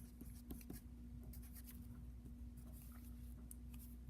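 A pen or pencil writes by hand in quiet, a faint series of light scratchy strokes with a soft steady hum underneath.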